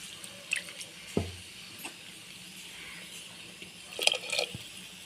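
Water is poured into a blender jar in a home kitchen and swirled to rinse it, giving a few brief splashing, trickling bursts against a quiet room background.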